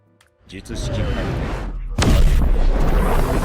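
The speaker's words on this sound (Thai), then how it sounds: "เป็นท่า ระเบิดแบบ LE นะครับ" A Roblox Heaven Stand attack move sets off explosions: a rumbling burst builds, then a second, louder boom hits at about two seconds and keeps rumbling densely through the end.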